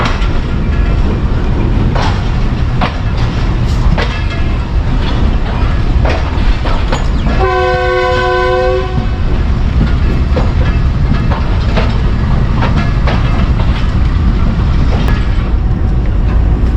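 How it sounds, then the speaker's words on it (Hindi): The Mianwali Express pulls into Mari Indus railway station with a loud, continuous rumble and rhythmic clickety-clack of the wheels, broken midway by a long, sustained horn blast. "मियाँ वाली एक्सप्रेस पहुंच चुकी है अपनी मंजिल पर, माड़ी इंडस रेलवे स्टेशन पर"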